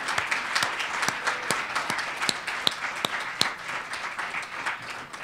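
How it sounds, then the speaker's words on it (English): An audience gives sustained applause to honour a leader at an education event, many hands clapping in a dense, steady patter with a few sharper individual claps standing out. "please give a huge round of applause to Ralph for all of his leadership"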